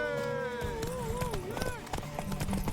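Hooves pound in a quick, rhythmic gallop as horses race in The Witcher 3 video game, near and loud, with a singing or whistling tone over the start and brief voices.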